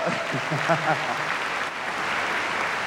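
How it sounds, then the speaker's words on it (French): Applause fills a large arena at a live 2001 comedy show in Bercy, steady and broadband throughout, with a voice talking over the start. "On peut les applaudir très fort."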